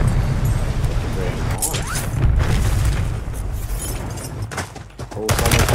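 Call of Duty Warzone gunfire from Modern Warfare III: bursts of rapid shots and heavy booms crackle loudly over a dense battle soundscape, with firing that rises and falls across the clip.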